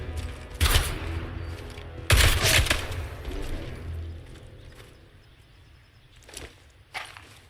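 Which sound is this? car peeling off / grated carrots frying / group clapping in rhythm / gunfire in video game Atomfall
gunfire in video game Atomfall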